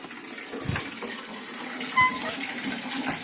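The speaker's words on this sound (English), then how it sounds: "water comes into the spring house, goes out there, where the sheep on the other side are." Water runs steadily into a spring house on a permaculture farm, a continuous gushing flow with faint outdoor background and a brief knock near the end.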